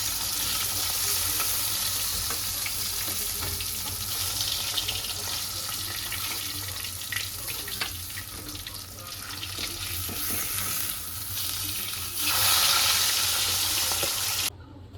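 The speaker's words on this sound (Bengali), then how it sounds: "মাছটা ভাজা হয়ে গেছে" Pangas fish frying in hot oil, a steady, loud sizzle with crackling filling the whole stretch, close up and continuous, with a brief brighter surge near the end.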